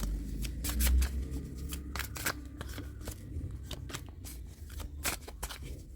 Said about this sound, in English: We're gonna pull some cards from Osho.